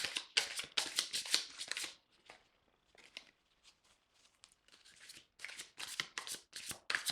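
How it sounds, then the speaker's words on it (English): A deck of tarot cards shuffled by hand in quick riffling bursts, crisp and papery, with a quieter stretch of light handling in the middle before the brisk shuffling resumes, close with no voice. "I'll shuffle 3 more times"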